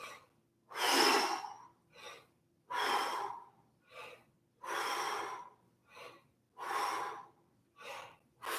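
Sharp, breathy exhalations during breath squat exercises come in a rhythmic series, strong bursts alternating with shorter, softer ones, close and alone without speech.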